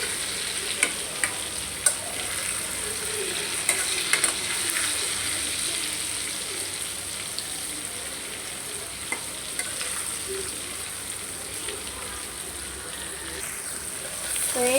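Fish and onions fry in a pan with a continuous bright sizzle, and scattered sharp clicks and taps come as the fish pieces are turned over one by one.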